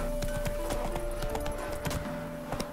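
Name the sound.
horse Roach hooves trotting, from The Witcher 3 video game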